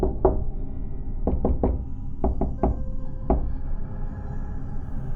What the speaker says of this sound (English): as Ryan went to knock again, the exact same beat knocked back at us